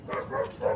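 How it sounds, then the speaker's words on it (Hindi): A dog barks a few times close by, short sharp yelps and woofs at moderate volume with no talking over them. "कुत्ता भौंक रहा है।"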